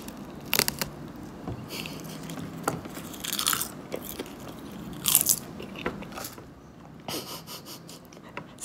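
Crunchy seaweed snack being bitten and chewed up close, with a run of sharp, crisp crackles and bites spaced irregularly over a soft background hiss, no talking.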